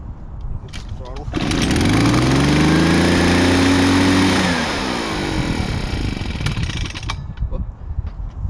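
A small two-stroke engine on a garden trimmer revs up hard under throttle, climbing to a loud, sustained whine, holding, then dropping back to a rough idle, close by.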